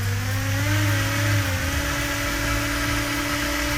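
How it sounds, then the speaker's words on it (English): Motors of a Lisamrc Keel 270 drone spinning up on throttle, a steady loud whirring hum with close, continuous tonal pitch that holds and shifts slightly, no talking. "I'm gonna test this fail-safe real quick by arming it, turning on my throttle"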